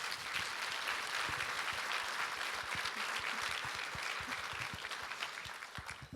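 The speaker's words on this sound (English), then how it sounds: "So let's give a round of applause again for all of our sharers." A banquet crowd claps for the people who shared their stories, a loud sustained round of applause that tapers slightly near the end, with no talking.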